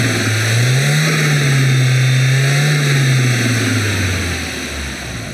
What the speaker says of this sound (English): by getting the engine on higher revs